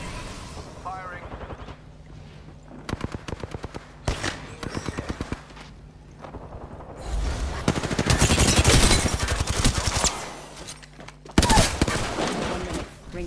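Apex Legends battle with repeated bursts of automatic gunfire, rapid rattling volleys broken by short pauses, plus a few heavier blasts and clattering effects, with game voice lines in between.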